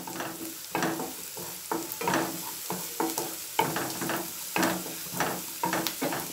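Chopped onion and a green chili sauté in a hot pan while being cooked down, giving a steady sizzle and frying hiss with regular scraping stirs throughout, close up and with no talking.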